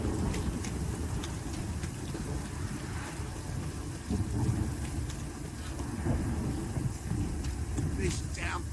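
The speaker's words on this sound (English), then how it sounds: "This downpour's a bastard, it is." Heavy rain pours down in The Witcher 3: Wild Hunt, a dense, steady rush with low rumbles beneath it and occasional voices over the downpour.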